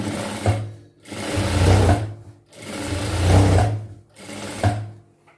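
A sewing machine stitches a seam on a pant, running in three loud bursts with short pauses between them and no talk.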